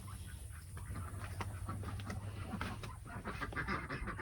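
Several ducks in a pen give a busy, overlapping run of quacks and honking calls close by, fairly faint, under a low steady hum.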